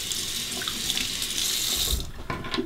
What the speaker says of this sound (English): rinse the razor